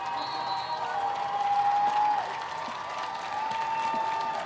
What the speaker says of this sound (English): Big round of applause and a standing ovation from the fans in red.